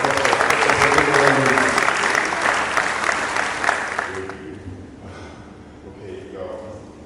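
An audience at a university alumni lecture in a hall gives a loud round of applause that fades after about four seconds, with voices and scattered crowd sounds afterward.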